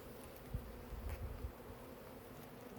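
Honeybees hum steadily through a first-year backyard hive inspection done without smoke, a low buzzing drone with a few louder passes close by, with no voices.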